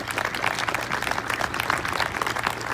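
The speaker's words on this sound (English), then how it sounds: "Give a round of applause, everybody." A crowd at an outdoor Spartan Pledge Day ceremony in 2018 applauds in a continuous, dense patter of many hands clapping at moderate volume, unbroken throughout.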